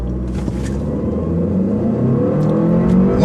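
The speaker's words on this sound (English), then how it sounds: "I'm still going to rev it a little bit and see what happens off the line" A front-wheel-drive Volvo S60 T6 engine revs and pulls away hard from a standstill, a loud, steady, rising mid-pitched roar with no pause throughout.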